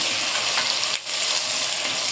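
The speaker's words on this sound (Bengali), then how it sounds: "পেঁয়াজ কুচা, 2 কাপের মতো পেঁয়াজ ভাজে নেব ভালোভাবে" Chopped onions frying in oil with a bay leaf for a mutton curry, a steady dense sizzle close up with no talking.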